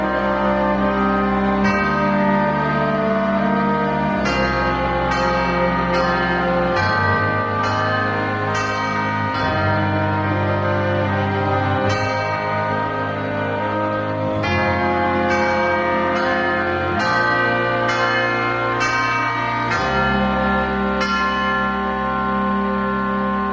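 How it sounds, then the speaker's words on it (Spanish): A church bell rings at dusk with a series of resonant strikes, spaced irregularly, each leaving a long reverberant hum that fills the space between tolls, heard alone. "La campana anuncia el silencio."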